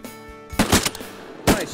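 Shotgun blasts at ducks during a duck hunt: a quick burst of three or four sharp shots close together, then another loud shot about a second later.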